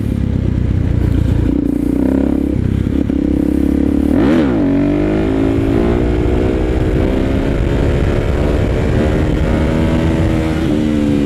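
A motorcycle engine revving hard during a wheelie attempt, loud and close, with one sharp rise and fall in pitch followed by a long climbing pull through the gear, plus wind buffeting and some clatter.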